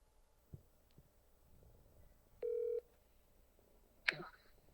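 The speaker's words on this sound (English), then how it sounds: "Let's see if they answer the phone though." A telephone being dialed to call a friend: one clear electronic dial tone in a quiet room, with scattered faint clicks and a short sharp noise afterward.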